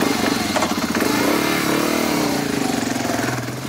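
A motorcycle engine runs steadily and close by, its mid-pitched drone holding level throughout as the bike sets off through traffic, with no voices over it.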